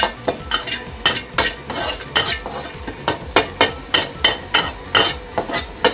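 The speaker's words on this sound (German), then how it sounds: "Wenn der Chili anbratet" Chili fries in a pan with lemongrass chicken being prepared, a sizzle running under sharp, regular scraping strokes from stirring about twice a second, close and clear with no talking.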